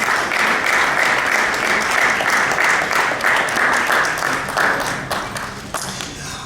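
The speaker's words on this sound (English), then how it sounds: "Another round of applause for the two excellencies for addressing us." An audience at a health event applauds two presidents, loud dense clapping close by that holds steady and then thins out and fades toward the end.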